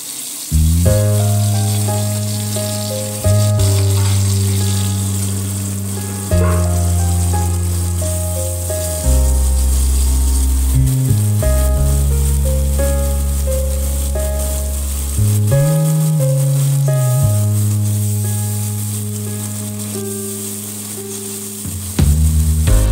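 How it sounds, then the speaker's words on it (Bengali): Ground spice paste fries in hot oil for a Bengali fish curry with potato and pointed gourd. A steady, hissing sizzle runs throughout under prominent melodic background music. "তেল গরম হয়ে গেলে ওই তেলে আমি বাটা মশলাটুকু দিয়ে ভালোভাবে কষে নেব।"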